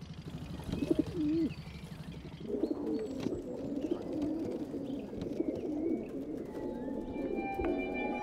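Domestic pigeons, descendants of rock doves, coo softly at their loft, low throaty calls repeating throughout with faint chirps and light background noise.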